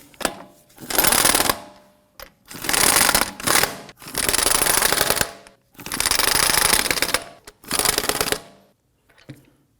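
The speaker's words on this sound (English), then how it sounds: "let's go ahead and snug these down gently" Impact wrench snugging lug nuts on a 2003-2014 Volvo XC90 front wheel, loud rattling bursts of about a second each, repeated five or six times with short pauses between.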